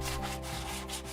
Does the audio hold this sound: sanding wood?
yes